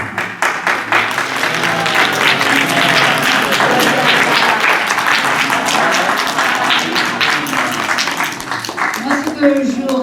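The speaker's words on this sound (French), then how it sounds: "je pense qu'on peut vous applaudir" Sustained applause from an audience, dense clapping filling the whole stretch, with a few voices and cheers rising near the end.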